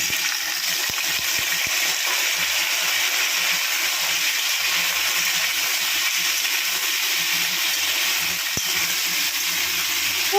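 Potatoes sizzle steadily in hot oil in a pan with dried red chillies for potol alur chorchori, a constant loud frying hiss with occasional clinks of a utensil.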